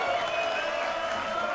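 An adoring crowd applauds and cheers for a hometown hero on the main stage at a Red Bull Wololo grand final event, a steady dense roar of clapping with no gaps.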